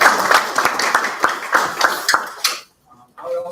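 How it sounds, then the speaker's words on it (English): Audience applause at a student innovation competition day, a burst of scattered hand claps with a few sharper individual claps that stops abruptly after about two and a half seconds, followed by near silence and a faint tone. "So, we have to very round of applause."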